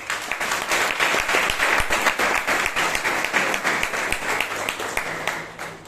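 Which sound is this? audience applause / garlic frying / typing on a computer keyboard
audience applause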